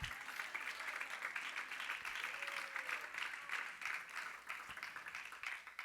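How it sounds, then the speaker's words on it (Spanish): A church congregation claps together during a sermon on the Passion of Christ, producing a steady, moderately distant wash of hand claps with faint murmurs underneath. "Dale palmas al Señor."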